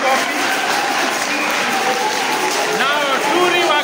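An audience at a Sunday school children's drama and culture competition claps together, steady dense applause throughout, loud and close, mixed with crowd noise and some voices.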